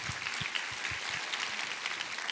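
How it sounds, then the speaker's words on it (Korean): A church congregation applauds during a Sunday worship service, a steady, fairly quiet wash of many hands clapping for a couple of seconds. "우리 하나님께 감사와 영광을 박수 올려드리겠습니다."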